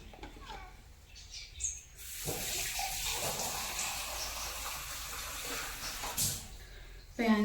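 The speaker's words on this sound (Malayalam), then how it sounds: "അപ്പം ഞാൻ പാകത്തിൻ്റെ വെള്ളം ഞാൻ ഇതിലേക്ക് പാരുന്നുണ്ട് കേട്ടോ" Water splashes into a pot of spiced beef mixture for Kerala beef varattu, a steady rushing pour of about five seconds with faint birdsong in the background.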